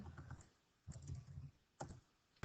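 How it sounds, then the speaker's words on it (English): Bursts of typing on a computer keyboard come in three short clusters of quiet clicks with pauses between, and a sharp final tap at the end; no one speaks. "Cannot type at all."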